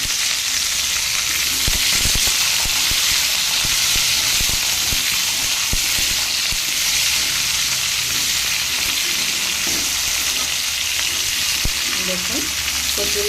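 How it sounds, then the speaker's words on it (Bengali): Taro stolons fry over low heat in oil tempered with mustard seeds, a dense continuous sizzle with crackling spatter and a few faint clicks throughout. "দেখুন, কচুরলতি সরিষা ফোড়ন দিয়ে ভাজা"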